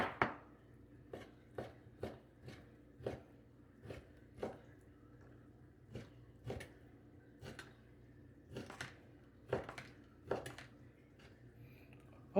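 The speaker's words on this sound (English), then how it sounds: "you just cut this thin slice. The thinner, the better." A knife cuts beef into thin slices on a board for a beef and tofu stir fry, giving a rapid series of sharp, close chopping taps at an uneven rhythm with no talk.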